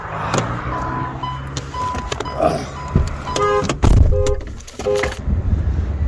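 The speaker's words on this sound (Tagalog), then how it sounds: "mga maraming parating na sasakyan. Kailangan mag-ingat tayo" Cars on a road, with engine rumble and passing traffic, a few horn-like toots and clicks, loud and close, without talk.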